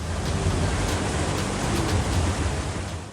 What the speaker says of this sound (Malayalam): കുത്തിയൊലിക്കുന്ന പുഴ